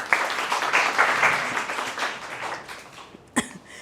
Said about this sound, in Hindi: प्लीज़ तालियां बेटा